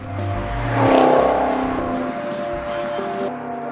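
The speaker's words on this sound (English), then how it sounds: "It has this sort of typical V8 burble, but it really cleans up. It smooths out as you rev it higher." A 2013 Maserati GranTurismo Sport V8 revs up and settles, a loud nearby engine note swelling then easing into a smooth, steady drone without any speech.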